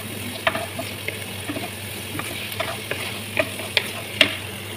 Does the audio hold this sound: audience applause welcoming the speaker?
no